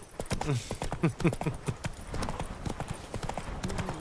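A horse's hooves clip-clop in a quick, steady rhythm while the player rides in The Witcher 3: Wild Hunt, close and clear, with someone talking briefly over the hoofbeats.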